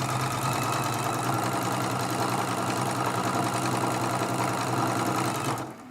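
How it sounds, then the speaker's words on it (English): A sewing machine runs continuously and loudly as it stitches Dresden Plate quilt block pieces cut from charm packs, a dense steady whirring rattle that slows and stops at the very end. "So we're just sewing."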